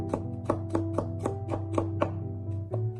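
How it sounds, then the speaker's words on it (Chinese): A kitchen knife chops thin garlic slices into a fine mince on a board, about ten quick, evenly spaced knocks, close and clear, over a low steady hum, while someone prepares hot and sour shredded potatoes. "然后再剁成稍微细一点的蒜末"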